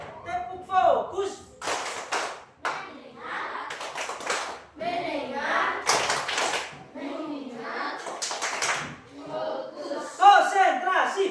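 Children clap in rhythmic group bursts between shouted chants, the claps sharp and clustered, voices of the class heard around them.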